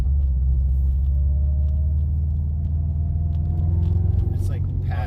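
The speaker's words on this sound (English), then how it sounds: "Moving through the gears for sure." A car engine accelerating through the gears, heard as a steady low rumbling drone with a slowly rising engine tone, recorded from inside the car and loud throughout.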